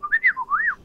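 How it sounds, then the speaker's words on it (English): An R2-D2 toy controller whistles on being switched on, a short close, clear run of warbling, rising and falling electronic chirps lasting under a second, with no talk over it. "Does it whistle when you turn it on? Yes. Yes, it does."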